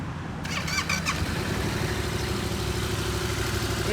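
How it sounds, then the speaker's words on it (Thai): A stock 2015 Yamaha MT-07 with a 270-degree crankshaft cranks over with a brief whining starter, then settles into a steady, throbbing, close-up idle. "มาฟังเสียงเครื่องยนต์กัน"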